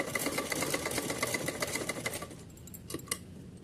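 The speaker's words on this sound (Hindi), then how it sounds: "हम कुछ दूर तक, यहाँ तक 4-5 इंच तक सिलाई लगाएंगे।" A sewing machine stitches two overlapping pieces of fabric for a small summer dress for a Kanha ji idol, running as a steady continuous whir for about two and a half seconds before stopping, with a few faint clicks after.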